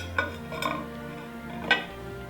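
A Better Homes and Gardens salad plate being set down on a Christmas table, giving a few light ceramic clinks and knocks spread over a couple of seconds, close and quiet.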